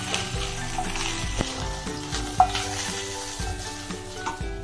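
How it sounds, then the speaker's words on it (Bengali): Pieces of katla fish fry in hot oil, giving a steady close sizzle with occasional stirring clatter and bubbling bursts throughout. "এই মাছগুলোকে আমি ভালো করে ভেজে নেব।"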